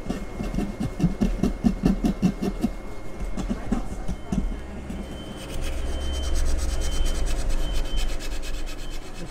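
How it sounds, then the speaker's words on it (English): Small rasps and files work over the carved shape of a wooden prop part for a 19th-century accordion, giving repeated rhythmic scraping strokes up close, then a steadier rougher rasping with a low background hum. "Now I'm going to be using some little rasps and files to get into all the details, just to clean it up"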